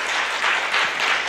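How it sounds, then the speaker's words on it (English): A school community forum audience gives the Drama Club a short round of applause, a brief, even wash of clapping from a crowd in a hall. "Can we give them just one more little round of applause to the Drama Club?"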